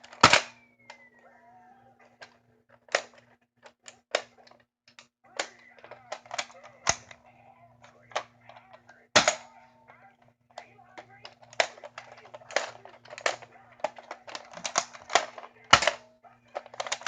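A toy Nerf pistol-style blaster is cocked and fired in a quiet room, giving sharp plastic clicks and snaps in irregular bursts, close and fairly loud, with faint background hum.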